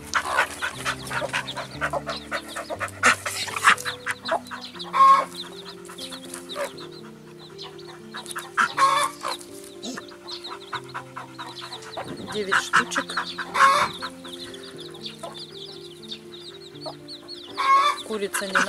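A hen with her brood of chicks on a small farm gives soft repeated clucks among constant high peeping from the chicks, close and moderately loud, with occasional brief talk in the background.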